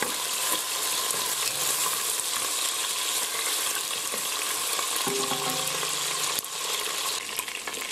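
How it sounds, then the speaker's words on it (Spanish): Meat searing in a pressure cooker pot, a loud, steady frying hiss and crackle throughout, with a faint clink near the end and no voices. "la carne para sellarla. Se tiene que freír muy bien."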